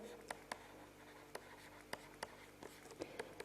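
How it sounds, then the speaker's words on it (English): Chalk or marker writes on a board in a series of sharp, separate taps and short strokes, quiet and close, with no talking. "Let me just write it here."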